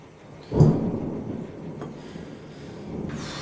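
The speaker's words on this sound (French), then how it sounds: "Il me fait flipper ce tonnerre." Thunder rolls in as a single deep rumbling boom that swells quickly and fades slowly into a low, continuous background growl, with a faint rustle near the end.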